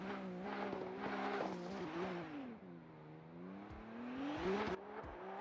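At a drift competition at Tokachi International Speedway, a Toyota GR86 race car launches off the line in a tandem run, its engine revving up and down over faint tire squeal at moderate distance.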